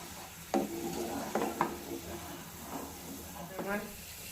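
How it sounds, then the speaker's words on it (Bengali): Boiling sugar syrup with ghee is stirred in a pan, with a low bubbling simmer and a few scraping strokes. A voice talks over it at moderate level. "এবার আমি নেড়ে এটাকে আর কিছুক্ষণ ফুটিয়ে নেব"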